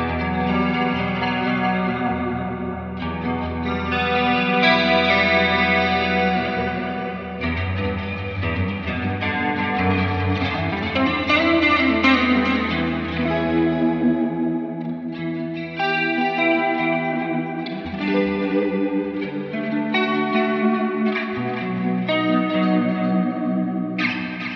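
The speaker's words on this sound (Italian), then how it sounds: "Vi vado a far sentire appunto un mio preset, il preset clean" Electric guitar played through a Line 6 POD Express amp modeler on a clean preset, steady sustained chords and melodic lines with chorus and echo, loud and continuous for the whole stretch with no talking.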